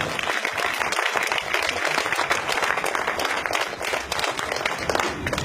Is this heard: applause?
yes